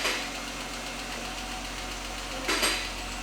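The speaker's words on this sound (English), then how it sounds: "you can hear the engine's making a lot of noise coming through the exhaust" A Jeep Grand Cherokee engine runs at a steady, noisy rumble that comes through the exhaust, with a brief louder surge near the end.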